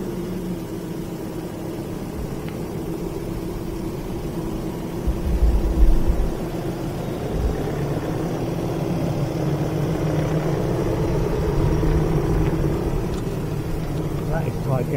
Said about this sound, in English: I've got a van coming out of the vehicle lot